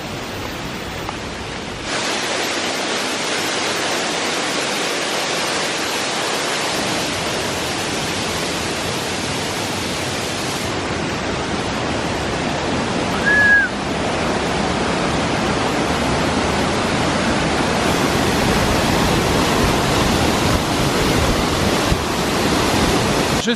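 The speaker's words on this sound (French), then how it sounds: "Je suis arrivé à la cascade qui s'appelle Srengenge." Roar of the multi-level Srengenge waterfall in Indonesia: a broad, constant rush of falling water filling the scene, loud and unbroken throughout with no voices.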